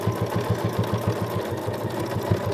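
A sewing machine stitches steadily around a fabric bowl cozy, its rapid regular mechanical thumping close and prominent throughout.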